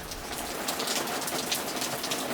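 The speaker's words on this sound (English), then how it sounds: "it's incredibly windy and the rain's just pelting us" Heavy hurricane rain pours steadily in a dense, hissing wash with a rushing, blustery quality off the coast of Galveston, loud and continuous throughout.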